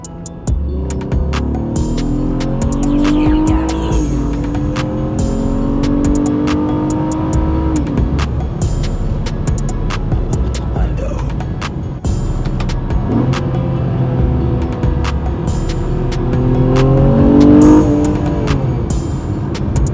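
A Honda Accord Coupe V6 pulls hard from 30 mph, heard from inside the cabin as a loud, throbbing engine note climbs through two long rising sweeps with a brief shift dip between them.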